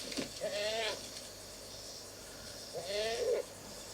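A goat bleats twice, each cry wavering and drawn out for about half a second, separated by a few seconds of quiet background.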